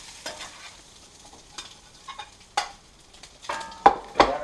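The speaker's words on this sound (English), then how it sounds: "Mix the potatoes right into it." Potatoes being stirred into seared corned beef in a pan with the heat off, with a utensil scraping and clanking against the pan in irregular strokes over a faint sizzle, louder knocks toward the end.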